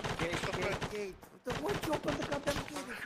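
Rapid gunfire crackles in an Arma 3 military firefight, bursts of shots layered closely together with a brief lull in the middle, while voices talk over the shooting.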